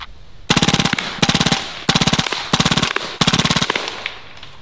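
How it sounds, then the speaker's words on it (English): A Hatsan Blitz full-auto .30 caliber air rifle fires five rapid bursts in quick succession, each a loud, close, rattling string of shots separated by brief pauses. "We'll do bursts on the left and then we'll full auto the right."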